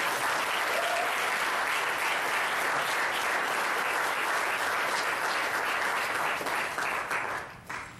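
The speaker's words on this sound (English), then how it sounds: "Why don't you give the Lord a hand clap of praise?" Sustained, loud audience applause at a public speech, a thick, even roar of clapping hands that holds for several seconds, then drops away sharply at the close.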